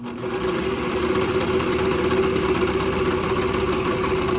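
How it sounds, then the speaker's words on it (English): A sewing machine stitches swimsuit fabric at a steady, fast clip, its needle mechanism chattering in a continuous mechanical drone up close. "And I sew it on a sewing machine."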